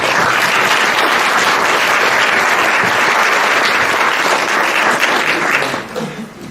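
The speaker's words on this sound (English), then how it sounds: "let's give them a round of applause" An audience at an anniversary reception gives steady, dense applause, loud and continuous for several seconds before tapering off at the end.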